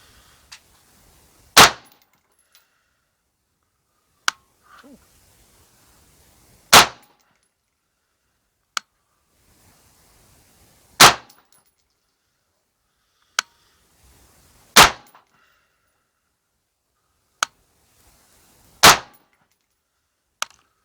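Gunshots from reloaded ammunition in dented brass cases, five loud sharp reports spaced several seconds apart at a shooting range, with fainter clicks and clanks between them.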